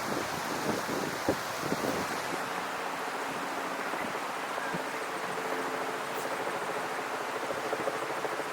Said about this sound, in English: now I would learn about the helicopter